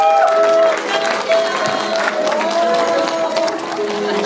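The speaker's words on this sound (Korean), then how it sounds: "많은 박수로 축하해 주시기 바랍니다." Wedding guests at a convention hall applaud as the bride enters, moderate clapping and crowd murmur mixed with sustained music tones.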